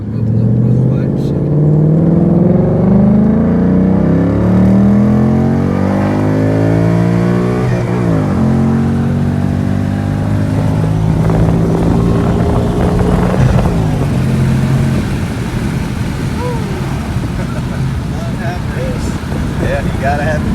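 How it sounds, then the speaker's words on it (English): A 2019 Ford Mustang S550 PP2 with a six-speed manual and its active exhaust set to track mode, the engine winding down through gears with a deep, loud exhaust drone that rises and falls, heard from inside the car. "Wind it down a little bit now so y'all can hear that exhaust a little bit."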